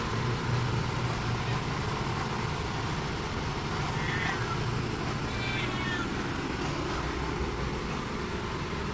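A cat cries out in a few faint, drawn-out meows around the middle, half lost under a steady low hum and background noise, as if searching for its lost kittens.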